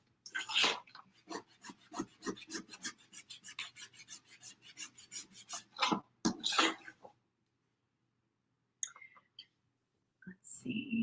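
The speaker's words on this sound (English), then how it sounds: "Rubbing it with a baby wipe?" A baby wipe is rubbed over a painted surface on a small hot cocoa stand craft, producing quick, close, raspy scrubbing strokes in a steady rhythm, then a pause before a few more faint rubs.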